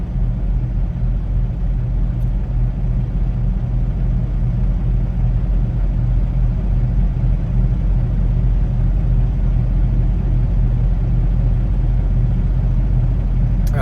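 A truck driving through a snowstorm, a steady low engine rumble and road drone from inside the cab, continuous and unbroken with no talking.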